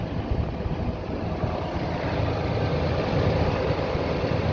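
A Claas Dominator SL Maxi 108 combine harvester engine runs with a dense, steady, rumbling roar, loud and close, continuous for the whole stretch with no voices.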